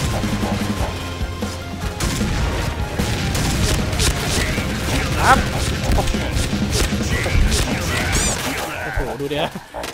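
Gunfire in a Point Blank first-person shooter match, with dense rapid shots, crashes and mechanical clatter filling the whole stretch, loud and continuous, while a player talks over it.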